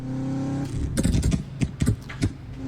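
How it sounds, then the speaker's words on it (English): A V8 muscle car engine in the Assetto Corsa racing game gives a steady low burble, then revs with several sharp throttle blips and pops, loud and close, with no talk. "That's quite the burble tune they got for a V8 in this game."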